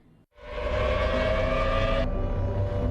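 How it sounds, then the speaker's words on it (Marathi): A civil defense air raid siren sounding in a missile-attack mock drill starts after a brief silence and holds a loud, steady, wailing tone for the rest of the clip. "शत्रूचा मिसाईल हल्ला होण्यावेळी सायरन वाजण्यास सुरुवात होते"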